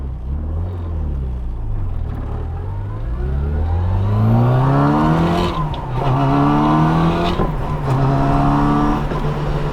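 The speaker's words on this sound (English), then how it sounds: "Did you see how fast we went through those gears?" A 1979 Mini Special with a 1430cc engine and straight-cut close-ratio gears accelerates hard through quick upshifts, its loud engine note rising and dropping with each change, heard up close with no talking.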